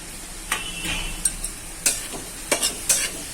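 Grated bottle gourd tossed and stirred in hot ghee in a pan: a handful of sharp, close scrapes and clinks over a soft, steady sizzle, with no voices.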